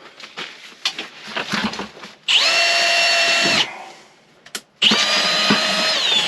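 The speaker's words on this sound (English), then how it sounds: "I get my auger out of my trap basket and I put this on my drill." A power drill fitted with an auger whirs in two loud bursts stirring dirt, separated by gritty scraping and shuffling, with a brief pause between runs.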